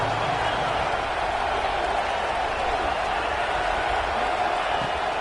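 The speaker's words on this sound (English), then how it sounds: "this crowd is ready" Football stadium crowd at an Ole Miss game, a steady dense roar of cheering and noise throughout, with a commentator's voice faintly under it.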